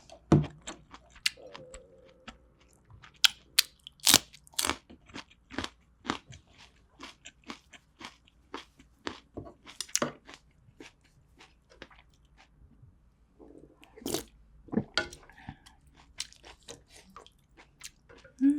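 Green onion from a pork back-bone stew is chewed close up, with crisp wet crunches and bites in an irregular rhythm that runs steadily throughout, no talking over it.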